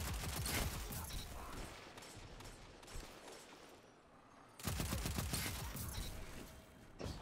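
A heavy gun fires in fast, loud bursts in an Ace of Spades video game match, then a short lull before the barrage resumes at full force.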